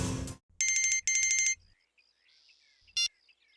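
A phone rings with an incoming call in a Hindi crime TV drama scene: two loud bursts of electronic ringing close together, followed by a short quieter tone and a final brief ring.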